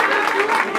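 Crowd at a Women's Day mariachi serenade breaks into applause, a brief, dense, steady burst of clapping heard close.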